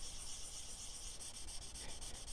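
Body filler on a car panel with a small dent and chipped paint is sanded with a sanding block, giving a steady, quiet, continuous scratchy rubbing with no talking.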